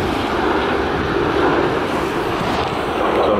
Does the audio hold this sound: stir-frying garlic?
no